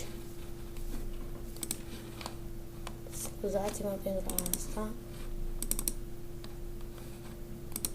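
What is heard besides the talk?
typing a message on a computer keyboard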